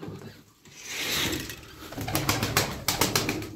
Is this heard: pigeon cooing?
yes